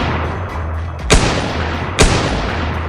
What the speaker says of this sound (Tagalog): Mga sunod-sunod na putok na yun